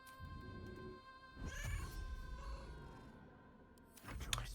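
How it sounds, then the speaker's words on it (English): A cat meowing in Baldur's Gate 3, a few drawn-out mews rising over quiet game music with a sharper cry near the end, close and moderately loud. "Will a tactical meow help us out here?"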